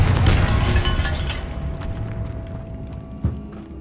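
In the game Hogwarts Legacy, a Confringo spell set in a tomb bursts in a loud explosion that dies away into a rumbling tail, with a small sharp pop near the end.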